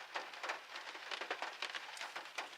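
Rain falls steadily outside during a steelhead fishing trip, a soft, dense patter of drops on a surface heard from indoors, faint and continuous.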